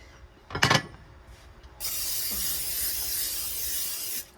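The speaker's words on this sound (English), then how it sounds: "I spray my processed canola oil into my cake pan for my processed cake mix." A short knock, then a steady hissing spray of canola oil into a cake pan lasting about two and a half seconds before it cuts off, close by.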